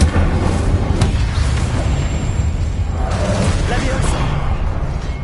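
Incendio fire spell being cast in Hogwarts Legacy, with several sharp fiery bursts and booming whooshes in quick succession over a steady rumbling game backdrop, with a voice present.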